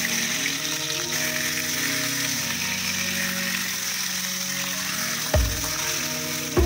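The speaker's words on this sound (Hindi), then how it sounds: "तो अभी मछली में फ्राई कर रही हूँ" Fish frying in mustard oil for a Bengali fish and cauliflower curry, a steady, close sizzle with a continuous hiss and a couple of short clatters near the end.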